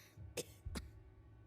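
Two short, faint coughs from a character in Final Fantasy XVI, spaced less than half a second apart over a low, rumbling game ambience.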